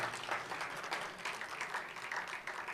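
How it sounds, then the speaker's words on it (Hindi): Brief, fairly soft applause from a seated audience at a literary session, many hands clapping in an even wash. "मुझे लगता है तालियां बजना चाहिए इसमें।"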